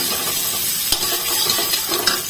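Chopped onions fry in hot oil for masala bhindi, giving a close, constant crackling sizzle with small pops and a light stirring scrape throughout.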